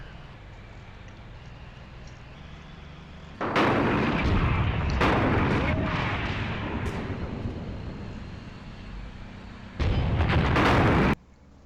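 Chieftain tank cannon fire in the war game Graviteam Tactics, set in Iran, with loud heavy booming blasts over a steady battlefield rumble and a second sharp burst near the end.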